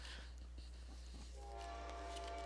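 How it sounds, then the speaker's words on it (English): A train rumbles past at a distance, a low steady drone with faint clatter and a brief horn-like tone rising toward the end, heard indoors. "Excuse the train"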